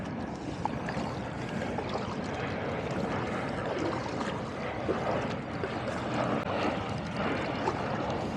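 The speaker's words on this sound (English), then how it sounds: "we do have an airplane flying overhead" An airplane passes overhead above a lagoon near Pelham Bay Park in the Bronx, its steady broadband drone filling the whole stretch at moderate loudness, blended with water and paddling noise from a kayak.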